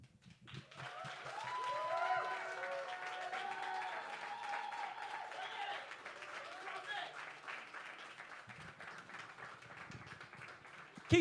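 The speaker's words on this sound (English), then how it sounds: "Keep that round of applause going for Jackson McBrayer." An audience at a poetry slam applauds poet Jackson McBrayer, moderate clapping and cheering heard somewhat distant beneath a host's voice.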